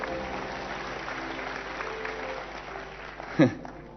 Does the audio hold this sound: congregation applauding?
yes